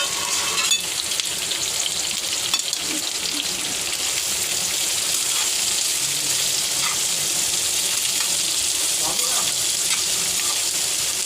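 Finely chopped cabbage frying in oil with dal and chillies for a quick home-style stir-fry, a loud steady sizzle with faint stirring scrapes throughout and no clear talk.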